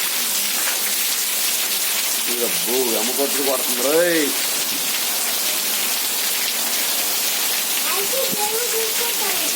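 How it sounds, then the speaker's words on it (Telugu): Heavy rain pours down in a constant loud hiss throughout, while voices speak briefly over it, including a child. "చూడు ఎంత వాన పెద్ద పెద్ద వాన పడుతుంది"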